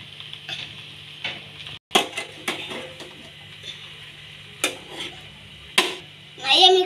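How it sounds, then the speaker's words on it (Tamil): Chopped chapati is stirred in a pan, giving soft scraping and clinking of a utensil with faint sizzling between, recurring irregularly at close range. "நிறையா மிக்ஸ் பண்ணி விட்டுக்கோங்க."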